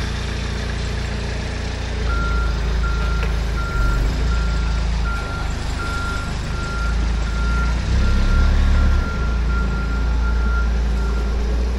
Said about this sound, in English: You get your forklift out